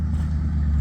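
A learner driver in the Philippines presses the gas, and a vehicle engine holds a loud, steady low rumble close by for a brief moment, with no voices.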